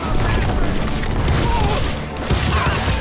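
Gunfire from hired guns in Call of Juarez Gunslinger, a Western shooter, crackles in loud, close volleys with booming shots and mechanical clatter, while a voice narrates over the fighting.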